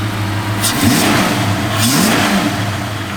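The engine of a 1964 Ford Falcon runs close by with a smooth, steady tone, rising in two brief revs over about three seconds.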